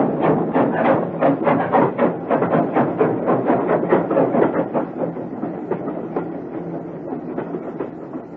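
A train pulling out of Paddington, made as a radio drama sound effect, keeps up a steady clickety-clack rhythm of wheels over the rail joints that slowly fades as it moves away, with no talk.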